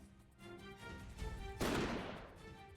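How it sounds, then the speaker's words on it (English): A single loud gunshot bursts out in the visual novel game Code: Realize, a sudden broad crack with a decaying tail, heard over quiet background music. "A gunshot explodes just as Lupin shouts."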